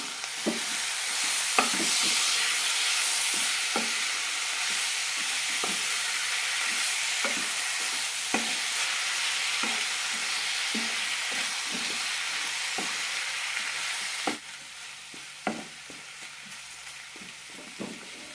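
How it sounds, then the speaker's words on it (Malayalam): Small tomatoes and salt stirred in a frying pan for chicken mappas curry, a steady sizzle with repeated scraping spoon strokes, loud and close, quieting near the end. "നന്നായി ഒന്ന് മിക്സ് ചെയ്തെടുക്കാം"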